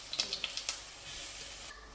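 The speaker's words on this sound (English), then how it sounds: "While the plantain is frying" A short burst of soft frying sizzle as plantain fries in a pot, with a few light crackles and pops near the start, steady and fairly quiet.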